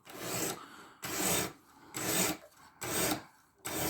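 Blade of a Sitivien ST147 knife with 14C28N steel stroked against a sharpening stone, four steady rasping passes in an even rhythm, close and fairly loud, with short pauses between strokes and no talk.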